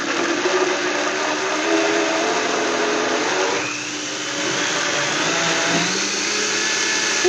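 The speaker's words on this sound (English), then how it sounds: "This is a high-powered blender." A high-powered Vitamix blender runs in a culinary school kitchen, a loud, steady motor whine and churning roar that briefly dips in pitch midway, then holds, with no talk.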